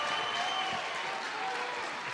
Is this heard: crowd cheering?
yes